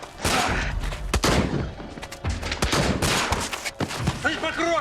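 A shootout in a Russian detective TV series: rapid gunshots and bursts of fire crack over shouting voices, with ringing, metallic echoes trailing at the end.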